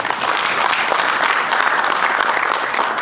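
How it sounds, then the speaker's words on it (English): A dense, loud round of audience clapping at a book presentation honoring an engineer, continuous and even for about three seconds, with no talk over it. "Please clap hands for it."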